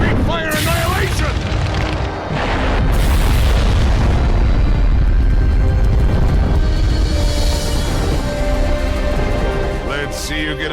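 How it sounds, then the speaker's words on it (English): Fiery jutsu blast in Naruto Shippuden Ultimate Ninja Storm 3, a sustained loud roaring boom with bursts and crackle layered over game music and effects, with character voices shouting around it. "Fire style, big fire annihilation!"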